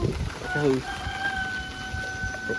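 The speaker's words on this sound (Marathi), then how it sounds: "इथे फार्म हाऊसमध्ये कोंबडी ठेवली आहे तिकडे" Chickens kept at a farmhouse in Konkan, a brief clucking call early on amid outdoor background noise, with a faint voice talking nearby.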